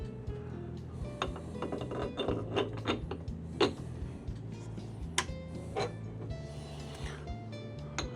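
Parts of an AMZCHEF 64mm flat burr espresso grinder being assembled by hand: a steady run of small clicks, clinks and plastic-and-metal knocks, near and moderately loud, with a faint low hum underneath and no talking.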